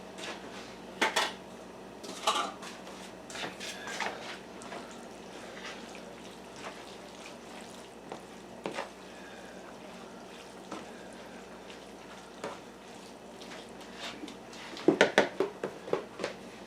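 Canned cranberry sauce added to a leftover Thanksgiving casserole, with scattered clinks of cutlery and dishes and soft scraping over a quiet background, a few sharper knocks near the start and end.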